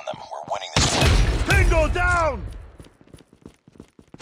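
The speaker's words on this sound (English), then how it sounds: "Friendly predator missile inbound." A predator missile strike lands in the game Call of Duty Mobile, a loud explosive burst with crackling debris and a tonal whine, then gunfire and footsteps continue faintly as a voice speaks over it.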